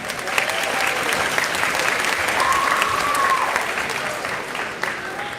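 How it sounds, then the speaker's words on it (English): Steady, full audience applause at a middle school winter concert honoring two student percussionists, dense clapping sustained evenly throughout with faint crowd murmur beneath. "Let's give them a big round of applause."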